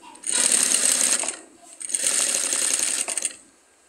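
A sewing machine stitches piping onto a neckline in two fast, close bursts separated by a short pause, the rapid needle clatter loud and clear with no voices.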